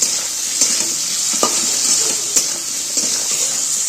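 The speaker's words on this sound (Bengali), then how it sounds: "দিয়ে একটু নাড়াচাড়া করে নেব যাতে আলুটা একটু ভাজা ভাজা হয়ে যায়।" Potatoes and onions frying in a pan with salt and turmeric, a steady bright sizzle with several sharp scrapes and taps of a stirring spoon.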